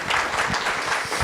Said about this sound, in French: vous pouvez l'applaudir, merci.